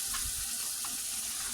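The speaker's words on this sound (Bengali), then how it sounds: "আমি এই পর্যায়ে পানি অ্যাড করে দিব" Water poured into a pan of sizzling fried potatoes and peas for a fish curry, a hissing, bubbling sizzle with splashing, steady and close, no talking.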